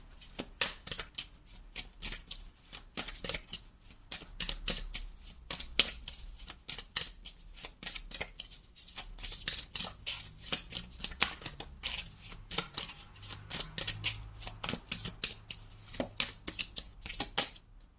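Tarot cards are shuffled by hand in a continuous run of crisp riffles and papery slaps, close and fairly quiet, with no talk over them.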